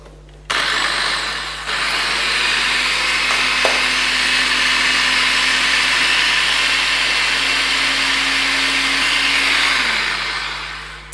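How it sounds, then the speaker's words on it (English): Dry muffin ingredients, flour and baking powder, whisked for chocolate chip muffins, giving a loud, steady, continuous whirring that runs almost unbroken for about ten seconds with no talking. "and then we just whisk these ingredients together."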